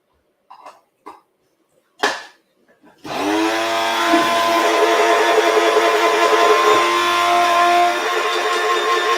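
A blender chops garlic with a loud, steady whirring roar that starts abruptly and runs continuously, after a few short bumps and knocks.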